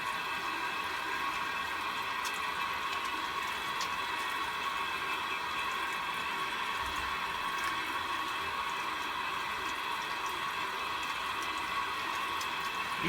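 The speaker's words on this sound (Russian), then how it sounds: "Потом промываем руки со всех сторон" Steady running water flows from a tap without a break, a soft, even hiss at moderate distance, with no voices.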